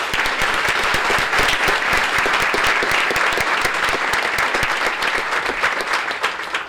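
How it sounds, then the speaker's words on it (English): Sustained, dense audience applause at a Beat The Odds 2016 awards ceremony, many hands clapping steadily and evenly for several seconds with no talk over it. "So let's give them all a round of applause."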